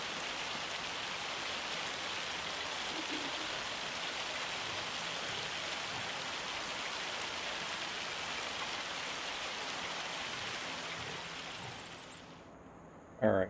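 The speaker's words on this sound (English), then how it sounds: "This is the hail." Hail pours down in Farming Simulator 25, a dense steady hiss of pellets on surfaces that holds evenly for several seconds, then cuts off abruptly near the end.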